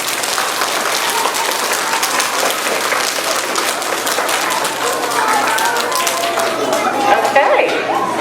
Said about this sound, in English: we'll give everybody a big round of applause